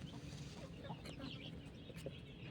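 A hen, likely an Aseel, clucks softly in a few short calls against a steady low rumble of outdoor background noise.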